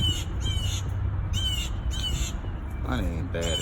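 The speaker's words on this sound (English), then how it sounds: "Maybe y'all hear that mama bird or the daddy bird." Crows caw repeatedly in short harsh bursts, loud and close, while a person talks underneath at lower pitch.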